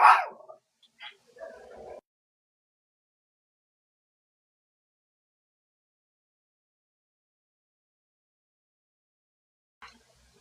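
A dog barks a few times in a quick burst at the start, fairly close and loud, followed by near silence and a faint short noise at the end.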